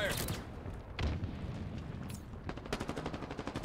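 Gunfire in Halo Infinite multiplayer team slayer: scattered single shots early, then a rapid rattling automatic burst toward the end, with game voice lines in between.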